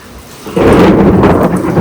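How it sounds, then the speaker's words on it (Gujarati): A loud rumbling crack of thunder with lightning rolls in after a quiet moment, rumbling on over the steady hiss of rain. "કડાકા થાય છે ને વીજળી બી થાય છે જોડે"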